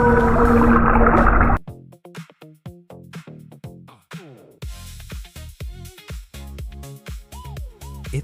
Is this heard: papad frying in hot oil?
no